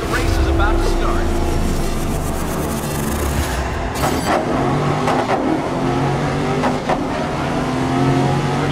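Racing car engines rev and drone together on the starting grid in Grid 2019, a loud, steady roar with rising and falling pitch, while a voice talks over it.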